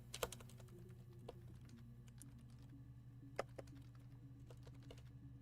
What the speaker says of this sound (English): I love that they included the typing sound